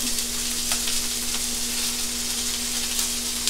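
Corn kernels frying in a canola and olive oil blend, a steady, close, even sizzle that holds throughout, with faint crackles and a low hum beneath and no talking.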